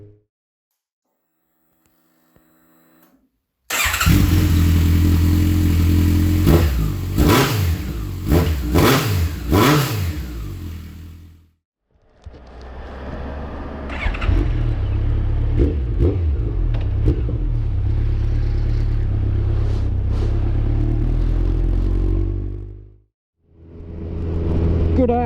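A Honda CB1100 motorcycle revs hard while riding on Old Bathurst Road, loud rising engine pulls with gear-change dips, a brief lull near the middle, then another long sustained run.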